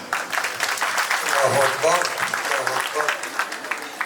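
A Muslim community gathering in Libreville hosting the visiting mayor of Porto-Novo breaks into steady applause, with voices briefly calling out over the clapping midway.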